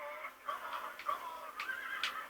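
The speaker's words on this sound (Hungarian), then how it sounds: "ráülök a lóra" A horse whinnies in Red Dead Redemption while being broken in, a wavering high neigh running through the stretch with shrill peaks, clear and close, no talk.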